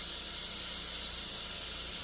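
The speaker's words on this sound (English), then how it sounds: "You hear that sizzle?" Steak sizzles on a hot grill in a steady, bright hiss with an even crackling texture and no pauses, close and fairly quiet, with no talking.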